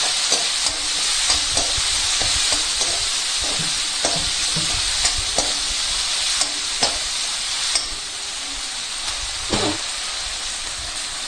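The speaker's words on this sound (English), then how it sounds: "Now this is going to pop, so be careful and use a long handled ladle. Just fry it for 2 minutes." Loud, continuous sizzling from ingredients frying in a pan for Manathakkali curry, marked by frequent sharp pops and occasional stirring clatter, close and with no voices.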